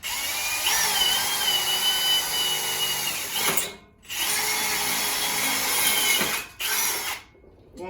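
A power drill boring a hole in wood while building a table/shoe rack, a loud high whine running in two long bursts with brief stops between, close up and without speech.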